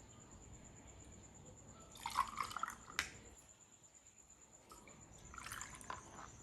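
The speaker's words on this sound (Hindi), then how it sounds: "अब हम इसके अंदर जूस डालते हैं।" Juice poured into a glass over ice for a falsa sharbat, heard as a short burst of close, trickling liquid and clinking splashes, a second softer pour following after a brief pause, with a steady faint hiss underneath.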